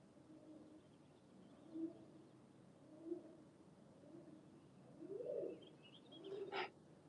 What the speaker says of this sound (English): I don't know if you guys can hear the pigeons up there.